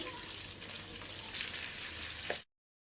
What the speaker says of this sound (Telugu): ఈ ఆనియన్తో పాటు ఈ కరివేపాకు కూడా ఫ్రై అయిపోతుంది